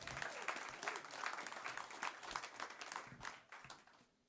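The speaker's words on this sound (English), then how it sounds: "Clap for Nick a little bit if you would." A comedy club audience applauding for several seconds, a dense steady clapping that fades out at the end.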